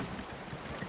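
Wind blows steadily across a sailing ship at sea in the video game Sea of Thieves, a continuous loud rushing wash with rumbling water underneath and no pauses.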